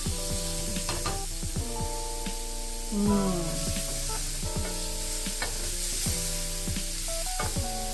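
Garlic and a small onion sweating in a pan for goulash soup crackle and sizzle steadily, with stirring scrapes and scattered clatters. Music plays underneath throughout.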